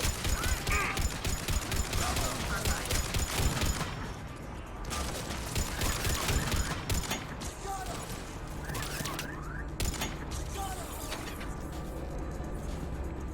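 Rapid bursts of gunfire from the Mass Effect 3 shooter, dense rattling volleys with mechanical clicks and clatter, loud and continuous at first, then thinning into scattered shots and whooshes.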